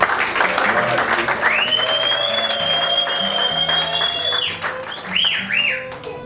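A congregation applauds steadily through a wedding blessing in Matadi, dense clapping running the whole time alongside sustained tonal voices or music that rise and waver near the end.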